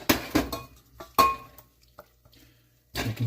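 Cooked chicken pieces for chicken à la king are spooned out of a buttery pan into a separate bowl: a few close metallic clinks and scrapes of utensil on cookware, separated by short quiet gaps, with no talk.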